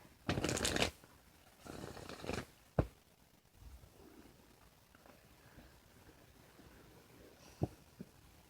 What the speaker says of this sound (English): So I'll shuffle this deck